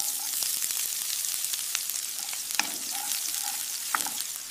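Onions frying in a pan in an AI-generated clip give a steady, close, crackling sizzle with scattered sharp pops and occasional stirring scrapes, continuous throughout.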